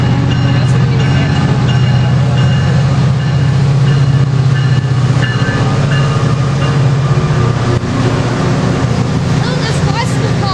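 A passenger train that includes a bicycle car rolls steadily past at Fullerton RR Days, a loud continuous rumble with faint clickety-clack and brief knocks, while people talk nearby.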